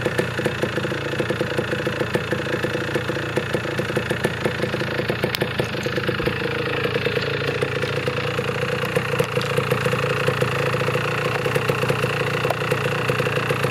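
A 1980 Suzuki PE 175 motorcycle engine runs steadily close by, giving an even, buzzing idle with quick rhythmic pulses and no talk.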